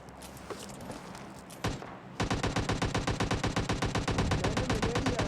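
Video-game gunfire in PUBG Lite: a single shot, then a steady rapid automatic burst of evenly spaced loud shots over background game noise, with no talking.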